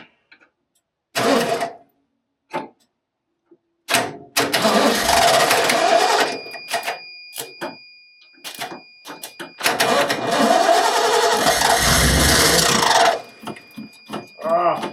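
A 1989 Ford F150 pickup, a barn-find truck, cranks in short bursts before a longer, loud churning run that catches briefly, with a steady whine throughout and quiet gaps between attempts.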